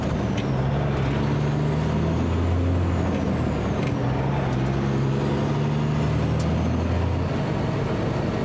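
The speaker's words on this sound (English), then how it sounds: "you have to have a jake brake on the truck" A heavy truck hauling a John Deere 8640 tractor on a Pennsylvania road, its engine brake rumbling loud and close in a steady low roar throughout, with faint hissing higher up.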